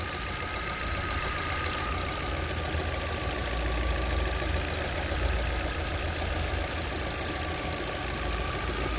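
A misfiring 2024 Jetour X70 Plus engine idles with a steady, loud mechanical rumble and a faint uneven knock running throughout, with no talk.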